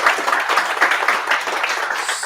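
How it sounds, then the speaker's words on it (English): A round of applause at a Sydney serverless tech meetup: dense, even clapping from a room of people, fairly loud and continuous for a couple of seconds. "round of applause to Hilton"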